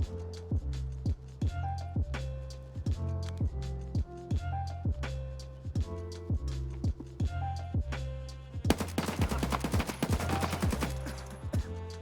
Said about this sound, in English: I whiffed the first few shots